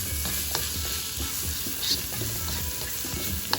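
Pepper cooks in a pan for sardine spaghetti with a steady, dense hiss and sizzle, a few faint clinks on top, close and even throughout, with no talking.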